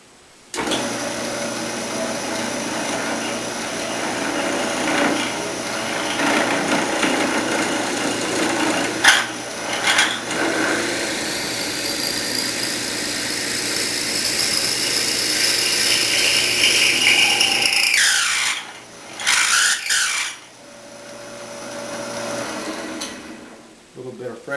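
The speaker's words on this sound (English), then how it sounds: "I've clamped the piece to the fence, to the table of my shopsmith, and I'm going to use that to make the countersink" Shopsmith drill cutting countersinks into a clamped wooden fireplace mantle piece, a steady whirring drone with ratcheting mechanical texture that runs for long stretches, breaks off briefly near the end, then resumes.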